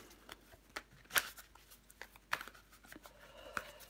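Tarot cards shuffled by hand in short bursts, three crisp riffling flutters separated by pauses, close and fairly quiet.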